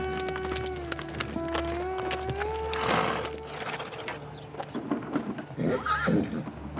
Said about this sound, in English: I'd like to put shoes on that little black horse